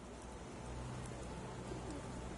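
Steady rain falling in the game Sherlock Holmes The Awakened, a faint, even hiss of drops with no break, heard alone.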